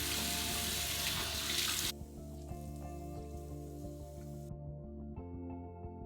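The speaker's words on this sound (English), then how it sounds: "first I'm going to rinse with warm water, and then I'm going to rinse with cold water" A tap runs while someone rinses their face at a sink, first as a loud rushing stream, then quieter splashing under a steady background hum that continues to the end.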